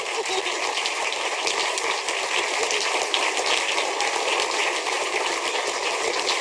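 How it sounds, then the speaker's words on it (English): A large conference audience applauds the FSF for the GPL, a dense, steady wash of clapping at even loudness throughout, with no speech over it. "And let's applaud the FSF for giving us the GPL."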